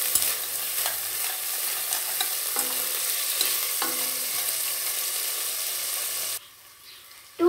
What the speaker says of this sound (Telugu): ఇప్పుడు ఫ్రై చేసుకోవాలి.